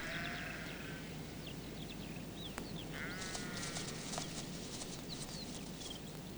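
Sheep bleat from a pen on a farm where a sheepdog is working, several wavering calls rising over a steady outdoor background, with birds chirping faintly in between.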